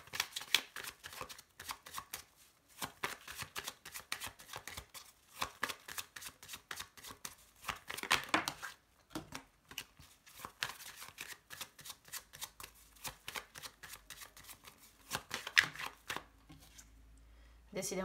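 Tarot cards are shuffled by hand in a quiet room, giving repeated soft riffling and flicking bursts in an uneven rhythm, with occasional faint talking.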